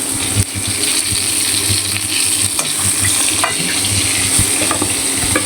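Curry stirred and fried in a pan over a wood fire gives a loud, continuous sizzle with scraping stir strokes and occasional clicks, close up, with no talking.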